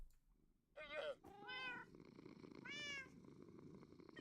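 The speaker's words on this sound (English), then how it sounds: "I hear purring." A cat inside a Minecraft-style ocean survival game gives a few short, quiet meows and purrs, three brief calls close together over faint background noise.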